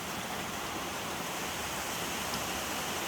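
Biryong waterfall in the high Seoraksan mountains pours as a steady, dense rushing roar, loud and unbroken throughout, with no voices over it.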